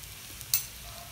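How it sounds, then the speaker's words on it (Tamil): Vegetable fried rice with pepper powder is gently stirred in a hot pan over a faint, steady sizzle, with one brief, close scrape of the spatula partway through. "சாதம் உடையாத அளவுக்கு மெதுவாக அப்படியே கிளறணும்"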